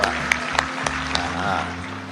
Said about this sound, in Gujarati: હું તમારી માટે હું તાળી પાડું છું